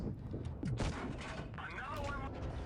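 Tank guns fire in a World of Tanks Blitz battle as the team focuses fire, with a few sharp booming shots in quick succession followed by ringing explosive tails and a dense wash of in-game combat noise.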